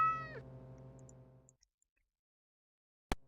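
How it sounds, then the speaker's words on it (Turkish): A cat in Streamer Life Simulator 2 gives one loud, close meow that trails off, followed by near silence, a few faint ticks and a sharp click at the end. "Lan kedi."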